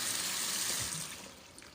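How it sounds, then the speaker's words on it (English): Tap water running into a sink while parsley is rinsed for gumbo, a close, steady splashing gush that fades slightly toward the end. "You can pretend that I'm rinsing this parsley if you're hearing the water here."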